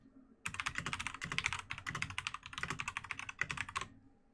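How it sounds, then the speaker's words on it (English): Rapid tapping on a computer keyboard, close and clear, a busy run of clicks lasting about three and a half seconds with short pauses and no voices. "Here, I'll type about it."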